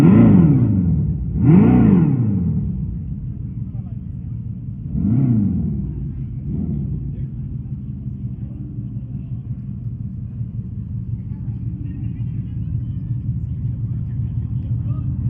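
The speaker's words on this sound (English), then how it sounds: "it does have that Fretsonic chambered exhaust that you heard at the very beginning" A Ram electric vehicle's Fratzonic chambered exhaust revs up sharply a few times with a deep, throaty sound, then settles into a steady low rumble for the remainder.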